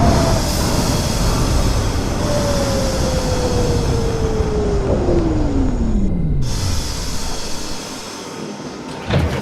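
A Brooklyn-bound N Express subway train in openBVE, a metro simulator game, rumbles loudly along the tracks while a falling whine glides down in pitch, the roar easing as the train slows.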